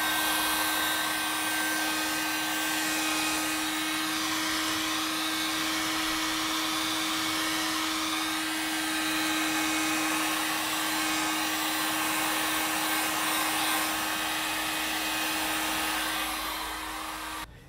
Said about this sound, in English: I'll get the dryer over here